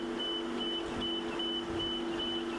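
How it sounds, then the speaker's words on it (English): First responders in Upstate South Carolina running a radiation contamination check during a safety drill at an evacuation center in Travelers Rest: a steady tone repeats in pulses over a constant engine-like rumble. "That's the sound of Upstate First Responders checking for potential radiation contamination."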